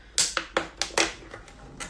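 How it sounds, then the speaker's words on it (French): Scissors cut a hole into a plastic container for a self-watering pot, making a rhythmic series of about six crisp snipping crunches close to the mic, with no talking. "je fais un premier petit trou et après je peux glisser mes ciseaux dedans"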